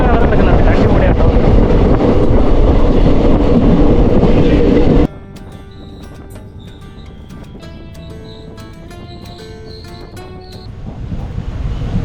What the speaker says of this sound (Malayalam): ട്രെയിൻ ഇപ്പോൾ 10 സ്ലോ ആയിട്ട് പോകുന്നത്.